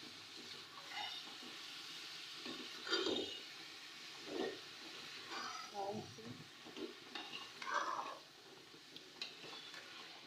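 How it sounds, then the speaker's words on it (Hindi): Aloo gajar sabzi, potatoes and carrots, is stirred and mixed in a pan, with quiet scraping and soft wet tossing in scattered bursts over a low sizzle. "मैं इसे अच्छी तरह से मिक्स कर लूँगी।"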